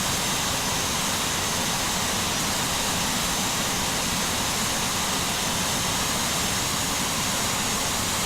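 A jet airliner touching down on final approach into Salt Lake City: a loud, steady broadband roar with a dense low-end rumble, continuous throughout with no talking.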